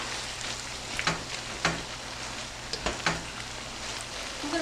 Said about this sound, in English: All right, we're going to give that a stir.